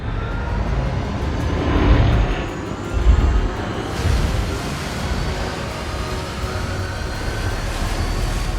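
A ship's engine starts and runs at full reverse, a deep continuous mechanical roar with heavy low rumble that swells around the start and then holds steady and loud, with no speech.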